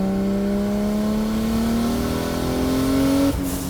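A 650 hp RB26-powered Nissan 300ZX revs hard and climbs steadily in pitch as it accelerates, loud and close, then cuts off abruptly near the end.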